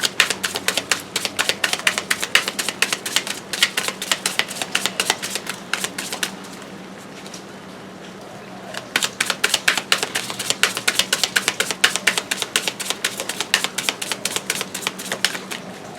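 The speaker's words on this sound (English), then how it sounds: "We're just going to shuffle for you." Tarot cards are shuffled in rapid riffling bursts, a crisp fluttering clatter that pauses briefly midway, then resumes at a steady pace.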